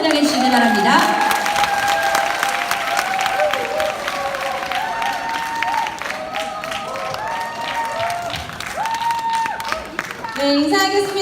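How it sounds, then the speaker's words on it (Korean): A seminar audience claps to welcome a speaker to the stage, sustained applause from a large crowd, with background music and an announcer's voice over it. "레드다이아몬드 최은정 사장님을 큰 박수로 환영해 주시기 바랍니다."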